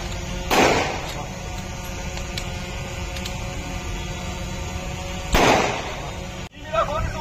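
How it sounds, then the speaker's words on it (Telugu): Gunfire during a police mock drill for handling unrest in Andhra Pradesh: two loud, sharp shots several seconds apart over a constant background hum, with a faint crowd murmur near the end. "ఇన్ఛార్జి గారు ఉత్తర్వుల వరకు ఫైర్ జరపడం మొదలుపెట్టినారు."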